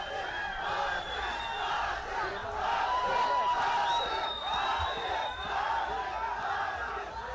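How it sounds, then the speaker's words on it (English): An arena crowd at an MMA fight night cheers and roars in waves, with scattered whoops rising above the sustained noise. "We can see the fans cheering"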